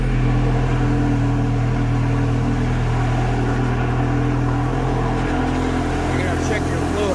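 A Ferrari 360 engine runs steadily just after being started, a loud, continuous mechanical drone with a strong low hum that stays constant throughout.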